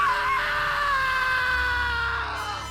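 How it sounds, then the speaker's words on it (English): A single long scream, loud and sustained, slowly falling in pitch and fading as it trails off, set in a Roblox creepypasta horror story. "a scream emanated loudly from an undisclosed source"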